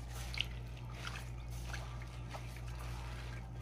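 Grated coconut in a net is squeezed by hand over a basin to extract coconut milk, giving soft repeated squishes and wet drips and trickles, close and faint over a steady low hum.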